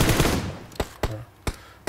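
Rifle fire from an M4 in the PUBG Mecha event game mode, heard as four sharp separate shots spaced out over about two seconds after a louder burst of noise at the start, with no talking.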